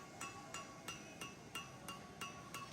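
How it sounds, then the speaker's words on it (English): A hammer striking hot metal at a forge during a knife-making attempt, about eight quiet, evenly spaced ringing blows with a bright metallic clink. "here you see my first attempt at moving metal with a hammer"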